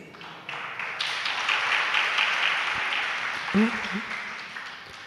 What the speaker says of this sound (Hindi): अर्थी के लिए ताली बजा रहे मित्र